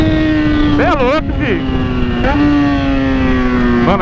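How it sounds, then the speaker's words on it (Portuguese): Yamaha XJ6 motorcycle engine revving loudly and up close, with sharp throttle blips rising and falling over a steady idle hum, under excited talk from riders. "a motoca causa muito. Essa é minha moto"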